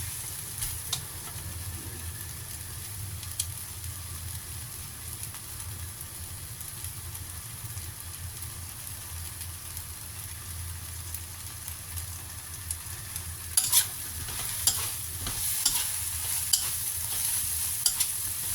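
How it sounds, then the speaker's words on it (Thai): Mama instant noodles stir-fried in a pan, with a constant low sizzle and light scraping that grows busier near the end, with sharper clinks of the utensil; close, no talking. "ผัดอีกหนึ่งนาทีจ้า"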